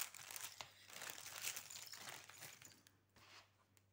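Plastic packaging of a purchased Christmas decoration crinkles and rustles as it is opened, a continuous soft crackling close by that fades toward the end over a faint hum.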